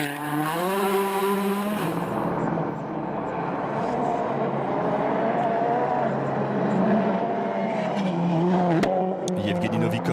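A Volkswagen Polo rally car slides through a stage of the Monte Carlo rally, its engine note rising and falling loudly and close with tire scrub and gravelly skid noise, while a commentator talks over it.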